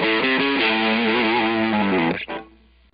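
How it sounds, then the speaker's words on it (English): Electric guitar played through distortion with dynamics and sustain envelope settings, a loud sustained distorted phrase with shifting bent notes that cuts off sharply near the end. "the envelope response, which is the dynamics and sustain sliders that work in conjunction with the distortion"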